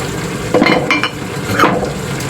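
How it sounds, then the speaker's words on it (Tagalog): Chopped vegetables dropped into the side of a pan of frying noodles, a few soft clattering impacts and brief scrapes over a steady low sizzle and kitchen rumble. "Ito namang gulay, ihuhulog ko na lang dito sa gilid."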